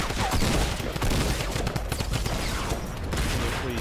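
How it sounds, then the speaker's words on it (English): Dense, continuous gunfire from the Fortnite battle royale game, rapid overlapping shots and bursts rattling without pause for several seconds at close range, with no talking over it. "I'm being shot by an invisible guy"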